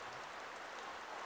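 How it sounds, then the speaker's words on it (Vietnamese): Heavy rain falls steadily outdoors as a dense, even hiss with no breaks and no voices, fairly quiet and unchanging throughout. "À, mưa to luôn đấy."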